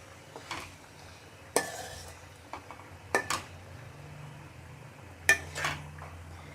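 Boiled noodles are stirred into a chicken filling in a pan, giving a few distinct utensil clanks and scrapes against the metal over a faint background hum, with no talking.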